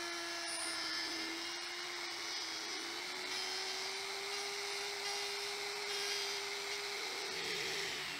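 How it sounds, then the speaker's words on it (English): A handheld rotary router cuts a washer recess into a counter board with a continuous high whine that holds almost constant pitch, fairly quiet and unbroken for several seconds. "I marked the rough size of the washer and just routed it out by hand."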